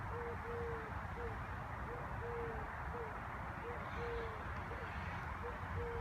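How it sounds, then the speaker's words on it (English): Soft, repeated cooing calls of doves sound in a steady rhythm through a loud, constant background rush, fairly faint and distant. "doves, I think they are, kind of like pigeons,"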